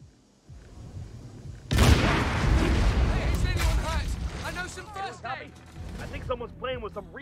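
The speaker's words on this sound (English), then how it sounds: "I think someone's playing with some real serious fireworks" Heavy, firework-like explosions erupt in a shooter video game, with a sudden loud blast followed by a sustained rumbling roar and scattered crackles, while voices speak over the noise.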